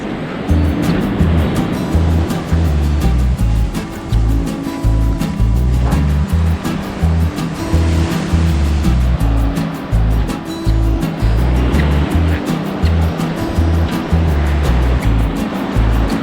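Rough waves break in steady, heavy surges on a Bay of Bengal beach, a loud, continuous roar of surf with rhythmic crashes and no other sounds standing out.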